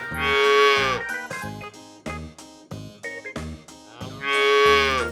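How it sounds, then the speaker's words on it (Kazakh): A calf gives two long, drawn-out moos, one at the start and one at the end, with a bouncy tune playing between them. "Бұзау."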